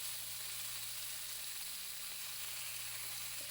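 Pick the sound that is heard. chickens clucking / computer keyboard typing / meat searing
meat searing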